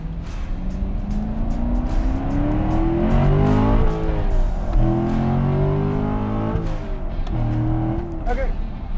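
A 2014 Corvette V8 with a 7-speed revs repeatedly, rising swells climbing toward the 6,500 RPM redline and the rev limiter, then dropping back, loud and close with a steady idle between pulls.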